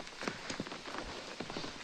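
Heavy rain patters steadily on the Pipeline Track hiking trail between Dunga Gali and Ayubia near Nathia Gali, a dense wash of drops with scattered sharper splashes close by and no talking.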